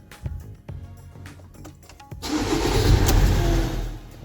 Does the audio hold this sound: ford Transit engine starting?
yes